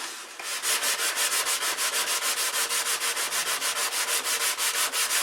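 Sandpaper rubbed back and forth over wood in quick, even strokes, a steady rhythmic scratching close up with no voices.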